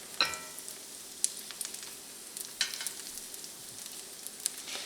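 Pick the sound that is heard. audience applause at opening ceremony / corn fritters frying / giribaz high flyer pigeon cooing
corn fritters frying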